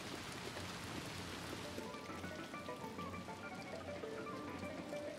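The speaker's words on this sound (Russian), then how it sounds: "почему такой жуткий дождь?" Steady, dense rain in the video game Little Nightmares 2 pours continuously with a hiss of drops across the whole stretch, along with faint tonal background sounds.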